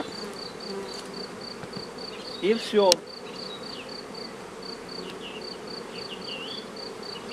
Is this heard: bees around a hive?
yes